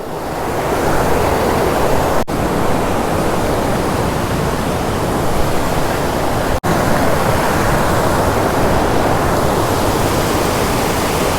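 Arbail waterfall near Yellapur roars in a loud, dense, unbroken rush of falling water that fills the whole soundscape close by.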